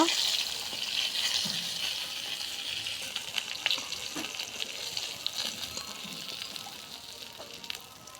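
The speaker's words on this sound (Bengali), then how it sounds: "এই যে দেখুন মাছটা ভাজা আমাদের হয়ে গেছে, এবার আমরা তুলে নিব।" Fish frying in hot oil in a home kitchen, a steady close sizzle with occasional pops and scraping as pieces are turned, continuous and moderately loud.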